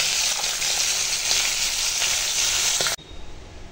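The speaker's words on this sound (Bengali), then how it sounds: "এখন দেখো মাছটা ভাজা হয়ে গেছে" Small pieces of young rohu fish sizzle loudly and steadily in hot oil in a home kitchen, a dense continuous crackle that cuts off abruptly near the end, leaving only a faint scrape.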